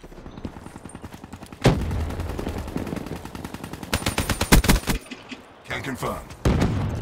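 Rapid automatic gunfire from the Dracon in Black Ops 3 multiplayer, loud and close, with dense bursts of shots and thuds and a brief spoken remark over the shooting.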